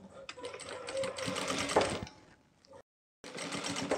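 A sewing machine stitches a double seam along a palazzo, running in steady close bursts with a brief full stop before the stitching resumes.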